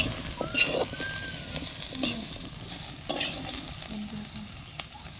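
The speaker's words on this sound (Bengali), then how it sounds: "দেখো কত সুন্দর হচ্ছে আলু ভাজিটা দেখো" Shredded potatoes frying in a pan with a soft, steady sizzle, broken by stirring scrapes and clatters, with faint bird calls in the background.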